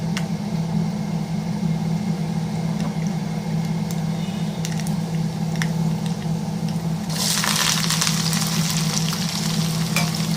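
Mustard seeds dropped into hot oil for tempering a chickpea kurma, a steady close frying sizzle throughout that grows brighter and more crackling in the last few seconds.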